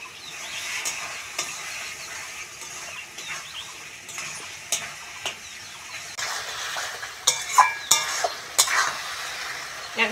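Water poured into frying spice masala for a Bengali gang chanda fish jhal makes a steady sizzle, with a spatula scraping and stirring in the pan and louder hissing bursts toward the end.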